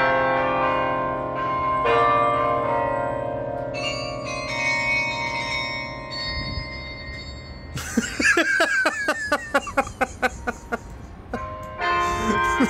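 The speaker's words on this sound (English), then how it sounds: "carillon bells." Carillon bells of Century Tower ring out in a sustained, layered chime of pitched tones, then break into a fast, bright cascade of rapidly struck bells, loud and continuous throughout.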